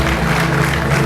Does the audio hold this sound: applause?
yes